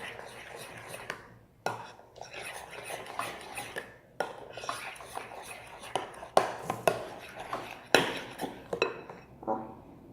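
Glue-based slime being mixed in a bowl, heard as repeated wet scraping and clinking utensil strokes against the bowl in irregular bursts, close and moderately loud, with short gaps between stirs.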